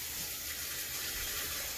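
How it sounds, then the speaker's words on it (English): Tap water runs steadily into a bowl over raw shrimp being rinsed, a dense, even splashing rush that stays constant throughout. "First we got to do shrimp in our little bowl here. And rinse this off a little bit."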